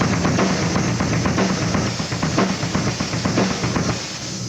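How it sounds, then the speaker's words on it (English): A single stroke roll on a drum kit rattles along in a fast, even stream of strokes for several seconds, steady and close, with no voices. "you get a single stroke roll that sounds like this."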